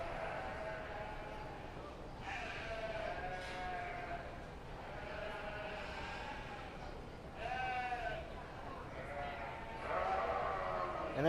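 Sheep bleat repeatedly at a county fair sheep show for white-faced commercial yearling ewes, with wavering calls from several animals in a row over steady arena background noise and a faint announcer's voice.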